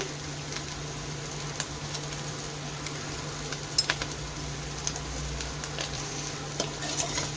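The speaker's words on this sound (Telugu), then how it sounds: "వీటన్నింటిని ఒకసారి బాగా ఫ్రై చేసుకోవాలి." Chilli powder and pepper fry in a pan for chicken fried rice, making a steady close sizzle with light stirring scrapes and occasional ticks under a constant low hum, with no talk.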